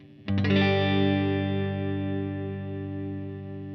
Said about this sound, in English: Right now I literally have it completely clean, just going through a compressor and a reverb.